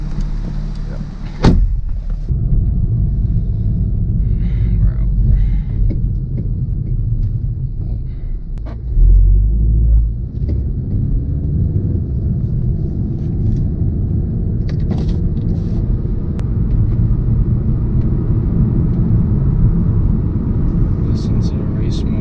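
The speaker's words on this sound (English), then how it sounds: "Listen to the race mode real quick." A Volkswagen MK7 Golf R in race mode gives a deep, rumbling idle, heard close from inside with a brief rev swell partway through and faint clicks and cabin noises.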